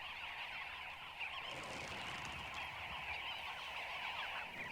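A flock of birds honks and calls continuously, a busy layered chorus at moderate volume with no other sounds.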